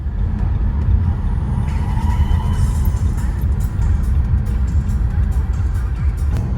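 A car driving, heard from inside the cabin: a steady, loud low road-and-engine rumble that holds evenly throughout, with faint higher hiss and no voices.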